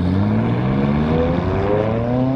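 McLaren 570S Spider, top up, accelerating away from a standstill, its engine note rising steadily in pitch through the revs, loud and close with no talking.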